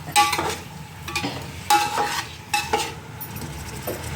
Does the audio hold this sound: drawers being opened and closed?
no